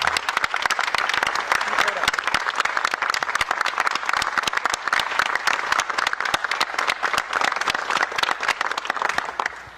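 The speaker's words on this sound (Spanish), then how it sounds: "Y yo quisiera que nos pongamos de pie y le tributemos un fuerte aplauso a Rafael Correa." Loud, sustained standing ovation from the audience at the CELAC summit, dense rapid clapping from a large crowd filling the room for nearly ten seconds and thinning slightly toward the end.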